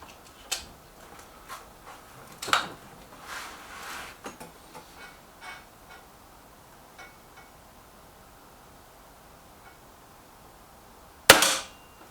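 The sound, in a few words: BSA TS Ultra air rifle firing pellets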